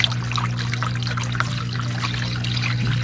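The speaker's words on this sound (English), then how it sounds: "Water coming out there. Water coming out here." Water drains out of a homemade hydroponics system back into its reservoir, a steady close pour and trickle running continuously over the low, constant hum of the pump.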